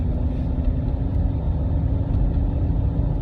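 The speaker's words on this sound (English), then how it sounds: "This van actually handles quite well in the snow. It's all-wheel drive." An all-wheel-drive van driving on a snowy road after the first snowfall in Anchorage, Alaska, heard from inside the cabin as a steady loud engine and road rumble with no talk.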